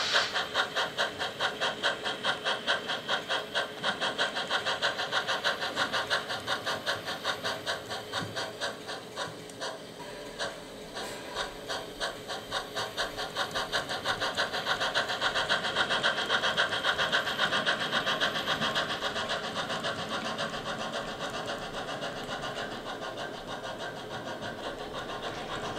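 A model train locomotive runs on the Nicasio Northern layout with a steady, continuous mechanical hum and rattle that swells slightly midway and holds at a moderate level throughout, with no talking.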